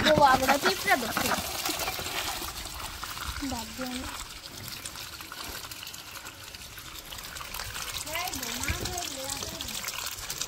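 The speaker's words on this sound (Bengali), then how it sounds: "একটু জল দেই, জল দেই" Water poured and trickling in a Bangladeshi village setting, a continuous splashing flow close by, with voices speaking over it.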